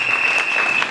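A congregation at a church's 30th-anniversary service gives a short burst of dense, loud clapping that fills the whole moment.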